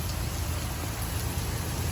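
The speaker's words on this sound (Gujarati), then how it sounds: "જોરદાર વરસાદ છે આજે" Heavy rain pours down during a storm at night, a dense, steady roar of drops close by with no talking.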